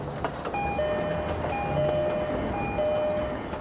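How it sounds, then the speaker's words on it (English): A commuter train on the Harlem line rolls past, a steady loud rumble holding throughout with tonal whistle-like squeals and hums riding above it; no voices. "a commuter train goes past you"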